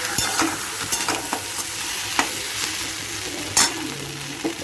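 Chicken do pyaza frying in a pan with kasuri methi sprinkled over it, stirred with a utensil: a steady sizzle runs under repeated scraping strokes and a few sharper clinks, close and fairly quiet, with no voices.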